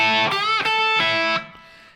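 An electric guitar plays a solo lick, sustained notes pushed up by whole-step bends in three connected phrases, clean and upfront, the last note fading away.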